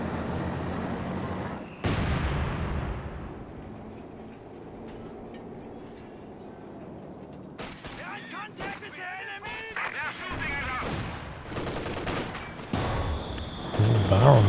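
Anti-tank gun fire in a World War II strategy game battle, with sharp, heavy booms and bursts of gunfire amid rumbling battle noise, while a commentator talks over the action.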